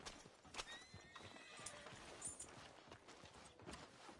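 A horse in the western video game Red Dead clip-clops along at a walk, its hoof falls steady and fairly quiet, with a clear neigh rising over them partway through.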